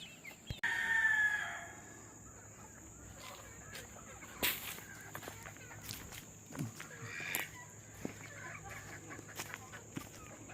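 Chickens in a backyard chicken yard, with a rooster crowing loudly once near the start, followed by scattered clucks, light footsteps and small knocks against a quiet outdoor background.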